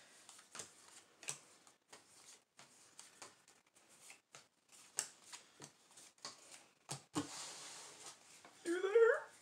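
Playing cards shuffled during a Clue board game, a series of quick riffling bursts and soft slaps in steady rhythm, fairly close and moderate, with a louder clattering riffle near the end; light talk occurs in the background.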